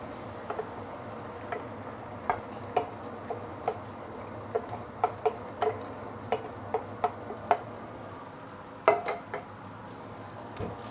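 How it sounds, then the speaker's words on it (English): Egg and pre-cooked rice being mixed in a pan over medium-high heat: sparse light scraping clicks of a utensil against the pan at irregular intervals, over a faint steady sizzle. "Then you can start mixing the egg and also the rice together."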